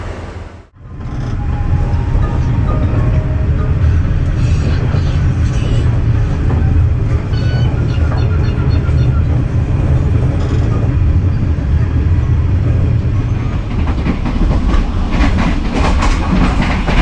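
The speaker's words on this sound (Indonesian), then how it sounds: "kereta api Serayu tiba di stasiun Bekasi" The Serayu passenger train pulls into Bekasi station in Indonesia at night, a loud, sustained rolling rumble with rhythmic rail clatter after a brief quiet opening.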